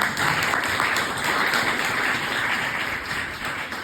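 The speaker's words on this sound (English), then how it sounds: "Please give them a round of applause." Audience applause after a presentation at a Frsis 2022 competition event, a steady wash of many clapping hands sustained at moderate level across the whole stretch, without speech.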